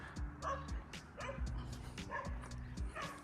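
A dog barks in repeated bursts of bow-wow and yips near a new-home construction site in Folsom, clear and fairly close, with some faint background noise between barks.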